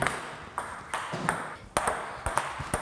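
Table tennis balls struck with chop blocks, giving a quick series of sharp, close ping-like hits on bat and table with short gaps between them, no voices.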